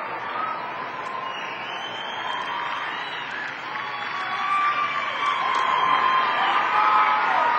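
Arena crowd at a 2003 Grand Prix figure skating event gives a standing ovation after Shen and Zhao's Nutcracker pair program, a dense, steady wash of applause and cheering that swells louder toward the end.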